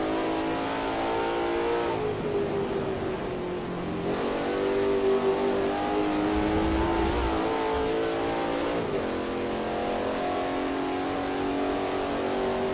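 Lola T70 MkII Spyder with a Ford engine at Road America in a racing sim, the V8 revving loud and steady with pitch rising and falling through gear changes, close and continuous.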